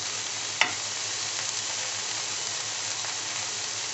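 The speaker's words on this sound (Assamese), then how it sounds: "বাটাৰত ফ্ৰাই কৰাৰ বাবে খুব ভাল গোন্ধ এটা আহিছে" Corn kernels frying in butter with tomatoes, a soft, even sizzle running throughout, broken once early by a sharp utensil tap and a few faint clicks.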